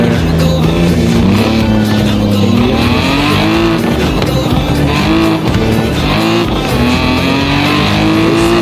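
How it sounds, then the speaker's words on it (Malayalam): A modified BMW M3 in the racing game Forza Horizon 4 roars loud and close, its engine note climbing and dipping through steady revving and gear changes without a break. "നമ്മുടെ വണ്ടിയുടെ സൗണ്ട് ഒക്കെ ശരിയാണ്, ഒരു പ്രശ്നമുള്ള കാര്യമല്ല"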